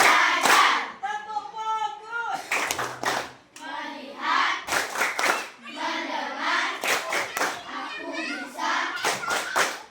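A counted clapping game led before a classroom lesson: sharp bursts of hand claps break in between a speaking voice calling out the count, the claps brief and close.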